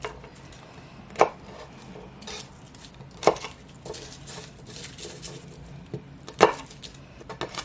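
A knife slicing through a root vegetable on a cutting board, three sharp separate chops spaced a couple of seconds apart over low room noise.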